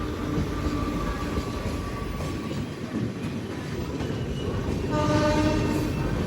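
Amrit Bharat Express passenger train pulling out of Kalyan Junction, a steady rumbling roll of wheels on rails with wagon clatter, continuous and fairly close, growing slightly louder near the end.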